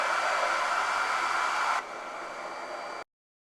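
A hair dryer blows steadily on Valentine's Day decor, close and loud, then drops to a lower setting for about a second before switching off abruptly.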